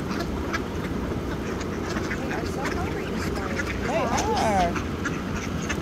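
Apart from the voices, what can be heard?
ducks quacking during feeding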